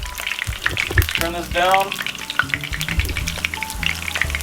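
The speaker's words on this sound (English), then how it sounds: "Take our lumpia and, oh god, here we go, here we go." Frozen chicken lumpia dropped into hot oil in a pan, a loud crackling, spattering fry close up that keeps popping, with people talking and exclaiming over it.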